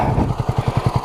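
Honda CB250RS motorcycle riding along a muddy green lane, a quick, even engine pulse thumping at a steady rhythm, close and fairly loud for a brief moment.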